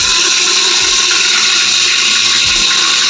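Roasted pepper paste dropping into hot oil for a Sunday paya dish, giving a steady bright hiss and sizzle that holds evenly throughout at close range, with faint low thumps underneath and no talking.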